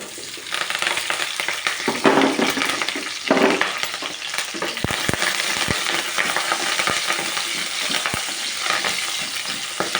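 Tempering spices frying in hot oil in a pan for a potato masala curry, a loud, steady close sizzle with stirring scrapes and a few sharp clicks, with no talk.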